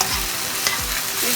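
Soy sauce, vinegar and green and red chili sauces get stirred into sizzling vegetable fried rice in a hot pan: two quick scraping strokes over a constant close hiss.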